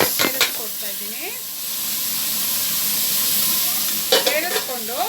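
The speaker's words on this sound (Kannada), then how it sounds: "ಸೇರಿಸ್ಕೊಂಡು ಇದನ್ನು ಚೆನ್ನಾಗಿ ಫ್ರೈ ಮಾಡ್ಕೊಳ್ಬೇಕು" Curry leaves and raw dal frying in a pan for a South Indian curry, a steady close sizzle and hiss with stirring scrapes, and a voice speaking briefly at the start and near the end.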